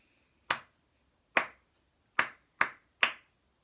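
Five sharp claps from a children's clapping game: two slow, evenly spaced beats, then three quick ones in a row. Crisp and close, with a quiet pause between each clap and no talking.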